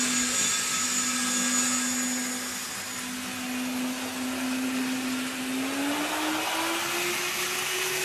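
A model train locomotive running at full speed gives a steady whirring motor whine with a constant hum that gradually rises in pitch, close and continuous with no talking.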